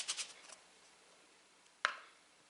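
Egg-free mini pizza dough being cut into pieces: a quick cluster of soft scraping cuts, a pause, then one sharp close cut on a quiet background.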